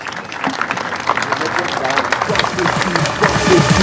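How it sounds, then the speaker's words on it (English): A loud round of applause for hospital staff at a Surya Hospitals inauguration ceremony fills the space, dense crowd clapping holding steady and swelling slightly toward the end, with voices and cheers mixed in. "Come on, the loudest round of applause for all the superheroes."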